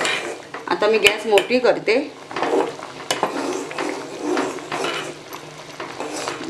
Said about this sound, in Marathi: पुन्हा एकदा मी चमच्याने ढवळून घेते